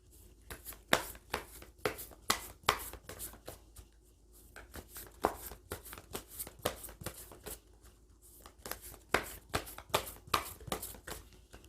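Oracle cards shuffled and drawn during a tarot reading, a steady run of sharp papery riffles and flicks in quick clusters with short pauses, close and fairly loud, with no voice.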